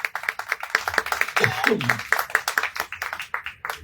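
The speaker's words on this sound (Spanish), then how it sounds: "Den un aplauso al Señor, hermano." A church congregation applauds, giving uneven, fairly close hand claps with a rhythmic pattern, while voices rise over the clapping partway through.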